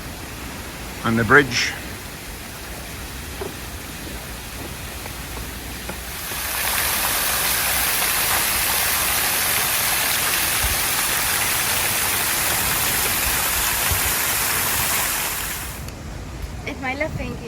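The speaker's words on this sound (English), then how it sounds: "There's the waterfall" A waterfall at Puerto de la Cruz, Tenerife gives a steady broadband rush of falling water for about ten seconds, loud and close, with a voice speaking briefly before it.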